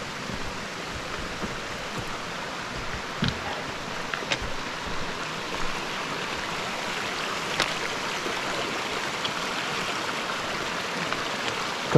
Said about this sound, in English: I love that sound of the brook coming down.